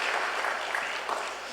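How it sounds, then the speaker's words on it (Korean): A church congregation at a Sunday service claps together for visitors from abroad, a steady, moderately loud wash of hand clapping filling a large room for a brief moment. "박수 한번 보내주겠습니다."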